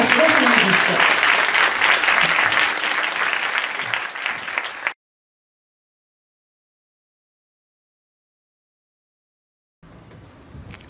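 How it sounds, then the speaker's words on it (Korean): Audience applause at a university mentoring lecture in Korea, welcoming a former prosecutor general to the stage; dense, loud clapping for about five seconds, fading, then silence and faint room sound. "따뜻한 박수로 환영해 주십시오"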